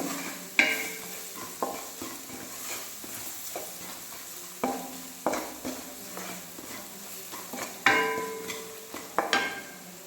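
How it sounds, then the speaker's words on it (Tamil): Baby corn masala stirred in a pan, irregular scrapes and clanks of a spoon against metal over a soft sizzle, close and fairly loud. "இப்போ இதையும் நல்லா மிக்ஸ் பண்ணி கொடுங்க"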